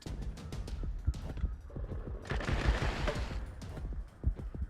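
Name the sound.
gunfire in video game Wasteland 3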